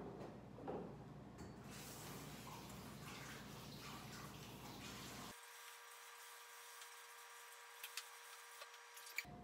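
Tap water running steadily while celery ribs are washed in a kitchen, a soft continuous rush that cuts off abruptly midway, followed by near silence with a few faint clicks.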